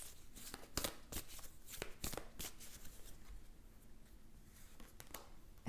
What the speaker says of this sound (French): Je tire une dernière carte.